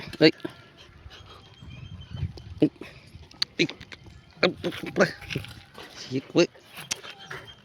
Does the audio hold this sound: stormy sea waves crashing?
no